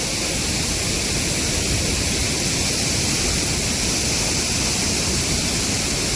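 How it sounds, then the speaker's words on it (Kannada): Soormane waterfall near Kalasa, Chikkamagaluru, swollen by monsoon rain, gives a loud, unbroken roar of crashing water from close range that drowns out everything else. "ಏನು ಸಖತ್ತಾಗಿ ಕಾಣ್ತಿದೆ ನೋಡಿ ನಮ್ಮ ಸೂರ್ಮನೆ ಜಲಪಾತ"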